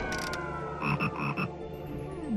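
A short run of rapid, rattling frog croaks in the Forbidden Forest 3 PC game, close and fairly loud, with a brief higher chirp at the start and no voices.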